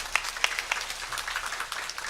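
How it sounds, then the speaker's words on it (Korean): A church congregation at a Sunday worship service claps, a few sharp near claps at first giving way to a dense, steady round of applause from many hands. "하나님께 영광의 박수를 드립니다."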